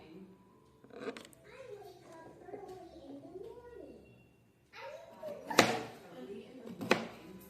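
A few sharp knife chops on a board, spaced apart, while a voice talks and babbles throughout.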